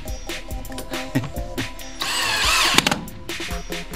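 A power drill bores mounting holes for a bass shaker subplate under home theater seating, with several short whirring bursts and one longer loud run that winds up and stops, broken by small clicks and handling knocks.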